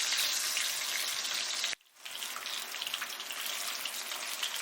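Fish frying in a hot pan gives a loud, dense sizzle that cuts out briefly, then resumes at a slightly lower level and crackles on steadily.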